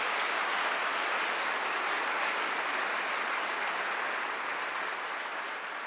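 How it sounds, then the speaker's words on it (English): An audience at a TEDxAttica session on healthy living applauds in a dense, sustained wash of clapping that fills the room evenly and tapers only slightly toward the end. "And please give everybody a round of applause"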